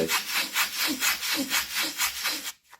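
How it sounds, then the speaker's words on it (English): A wooden edge is rubbed by hand on 240 grit sandpaper in about ten quick, even back-and-forth strokes, a close, rhythmic rasp that stops abruptly. "I'm just going to rub down that back edge on some, I've got 240 grit sandpaper there"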